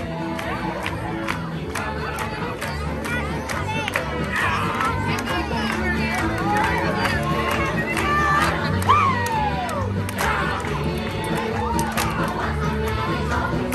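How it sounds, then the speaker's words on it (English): A crowd at a Magic Kingdom street show cheers and shouts continuously, with children's voices and excited yells layered over a steady rhythmic musical backing, loud and close throughout. "The people in the crowd are getting into it."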